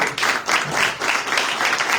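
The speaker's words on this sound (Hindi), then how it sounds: "मैं वाकई में चाहता हूं उनके लिए तालियां बजाइए" Applause from a church conference audience, a brief dense wash of many hands that stays loud and even throughout.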